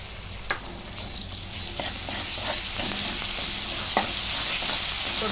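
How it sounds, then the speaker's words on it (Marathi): Onion and ginger-garlic paste fry in a pan for palak paneer, giving a continuous close crackling sizzle punctuated by scraping clicks of stirring that grows fuller and louder as it goes. "आता कांदा चांगला लाल होईपर्यंत मी भाजून घेते"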